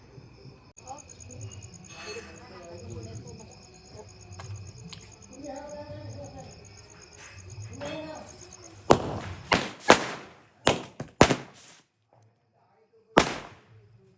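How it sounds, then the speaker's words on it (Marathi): Quiet chatter with crickets chirping in the background, then a burst of several loud Diwali firecracker bangs in quick succession in a village, followed by one more bang after a pause. "फटाके फोडायचे चालले दोघं मिळून फोडतात"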